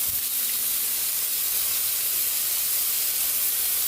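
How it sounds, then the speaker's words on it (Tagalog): Pork sautés with onion and a little oyster sauce in a pan for menudo, giving off a steady, loud, close sizzling hiss that holds evenly throughout with no talking. "habang nagigisa tayo ng ating pork para sa menudo"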